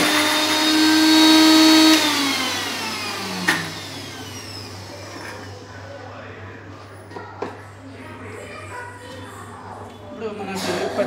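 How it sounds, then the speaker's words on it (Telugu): A mixer grinder whirs loudly for about two seconds as it grinds green chillies with salt, then spins down and stops, leaving faint clatter and low background hum. "ఇప్పుడు మనకి పచ్చిమిరపకాయ ఇలా గ్రైండ్ చేసుకోవాలి."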